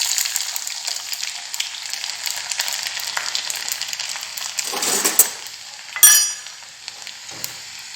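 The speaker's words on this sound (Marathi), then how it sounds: "तेल तापलं की त्यात आपण पिवळ्या मेथ्या घालून घेणार आहोत, जिरे, बडीशोप" Fenugreek seeds, cumin, fennel and garlic fry in hot oil with a steady, close crackling sizzle, broken by a couple of brief louder hissing bursts as more goes into the pan near the end.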